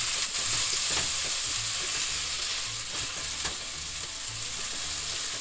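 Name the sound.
onion and garlic frying for snails in sauce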